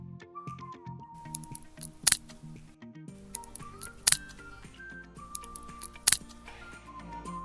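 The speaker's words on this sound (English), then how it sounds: "Some components inside the fridge expand and contract with temperature changes, which in turn makes some snapping sounds, especially after the defrosting process" Refrigerator components snapping as they expand and contract with temperature changes after defrosting, heard as three sharp clicks spaced about two seconds apart over a faint background hum, close by.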